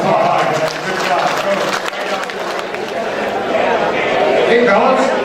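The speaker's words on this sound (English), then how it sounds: "Give a big round of applause." Audience applause for third-place winners at a tournament in Akaska, South Dakota: a sustained, dense wash of clapping mixed with crowd chatter and talking voices, steady and fairly loud for the whole stretch.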